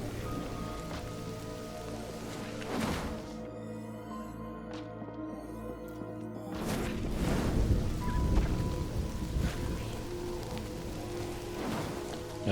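Rain patters steadily in a fantasy wizard-school management game, with a low rumble of thunder swelling midway and a brief hush of near-silence before the downpour resumes, all without talk.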